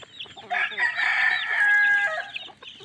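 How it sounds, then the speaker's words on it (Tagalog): Young chicks being given feed cluck and cheep loudly and close by, a dense, continuous burst of calls lasting about two seconds, with no talking. "nabigyan na po natin sila ng patuka yung ating mga sisiyo dito"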